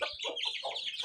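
Chickens cluck in a quick, busy run of short calls, close and fairly loud, with no talk over them.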